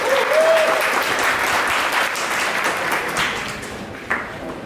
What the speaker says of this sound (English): Last round of applause to welcome the musicians and to welcome the Foley Jazz